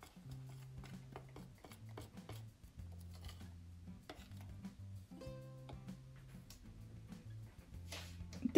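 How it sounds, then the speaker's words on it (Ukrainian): Eggs are stirred into a warm chocolate batter for a Spartak cake. A utensil clicks and scrapes around the bowl in a steady rhythm over a low background hum, with no voices. "Перемішую, щоб все це поєдналось до однорідності."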